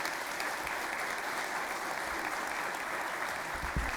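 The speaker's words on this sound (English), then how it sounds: "we would all like to give a round of applause to her" Round of applause at a county board meeting, an even, soft wash of clapping from a room of people, continuous and fairly distant for the few seconds shown.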